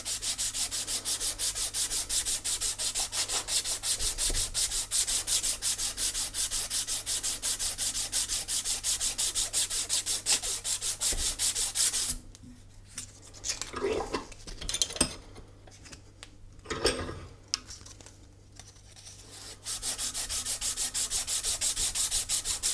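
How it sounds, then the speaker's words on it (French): A scratched bicycle seat post is rubbed with coarse green sandpaper, giving a steady, close, rasping scrub that runs continuously, breaks into scattered handling noises midway, then resumes its even rhythm. "je suis encore avec le papier vert avec le plus gros grain"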